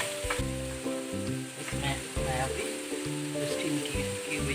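Spices and vegetables for a jackfruit and kabuli chana biryani sizzle and fry in a pan, a continuous close crackle running under steady background music.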